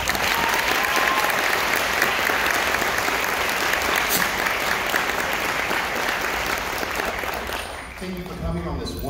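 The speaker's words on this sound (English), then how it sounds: "Let's give them one more round of applause." A concert audience gives a high school symphonic band sustained, dense applause that stays full and even for several seconds, then eases near the end as a voice begins to speak.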